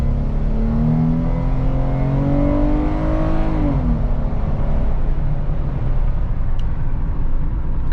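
A 2015 Jeep Wrangler with the 3.6 engine and stock intake revs steadily, a loud continuous drone whose pitch rises and then sinks back, with no voices.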